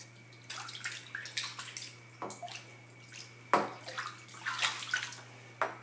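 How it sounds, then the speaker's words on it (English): Water sloshes and splashes in a tub-like basin around toy dolls, with repeated close, irregular bursts of splashing and dripping and no talk over it. "Look at the waves."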